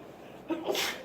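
A single sharp sneeze, close and fairly loud, preceded by a quick intake of breath.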